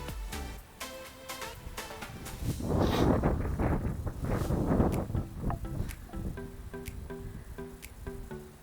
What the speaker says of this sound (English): That wind was horrendous that day.